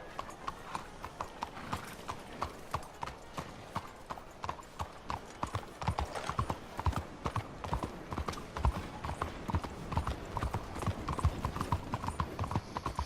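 Horses pull a stagecoach in Red Dead Redemption 2, their hooves clip-clopping in a steady, even rhythm throughout, fairly close and moderately loud.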